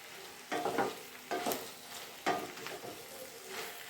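Bitter gourd cooking in oil for a tamarind curry, soft sizzling broken by three louder bursts of stirring or tossing in the pan, fairly quiet overall.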